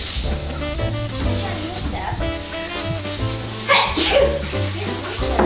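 One sharp sneeze bursts out partway through, over steady background music.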